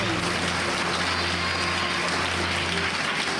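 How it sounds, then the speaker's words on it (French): Audience applause at a ceremony honouring an award recipient, a steady dense wash of clapping through the whole stretch with a low electrical hum beneath. "Mesdames, messieurs, je vous demande d'applaudir très fort Nicole Bandales"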